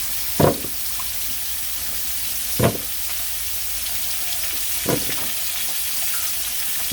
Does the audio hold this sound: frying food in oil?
yes